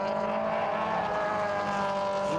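SuperCup race cars lapping Silverstone make a steady, loud engine drone that holds its pitch throughout, with no voices heard.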